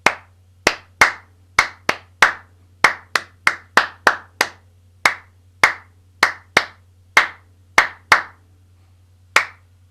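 Rhythmic hand clapping in a music warm-up exercise, about two dozen sharp claps in a steady bar pattern with brief pauses, close and clear over a low steady hum, no talking.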